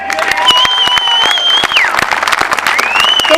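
A crowd at a veterans' rally in Sunderland breaks into loud, sustained applause with dense clapping throughout, and a few cheers and whistles rise over it.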